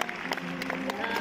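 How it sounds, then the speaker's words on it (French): Audience applauding at a French film premiere for Vacances forcées, a dense, steady wash of clapping from a crowd filling the whole short moment, with a few sharper claps standing out. "Je vous demande d'applaudir la resplendissante Horatica"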